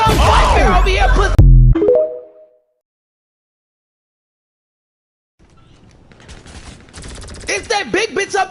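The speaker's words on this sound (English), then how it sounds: "Fuck all that shooting." A voice is heard briefly at the start, followed by a silent gap, then a loud flurry of rapid video-game gunfire and explosive bursts in quick repeated volleys.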